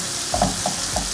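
Onion stirred in a very hot frying pan, a few short scraping strokes over a steady close sizzle, no talking.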